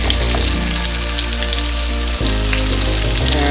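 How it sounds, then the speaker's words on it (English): Breaded shrimp fry in hot oil with a loud, dense, continuous sizzle and crackle, heard up close with no voices. "That's exactly what you want to see, the beautiful sizzle."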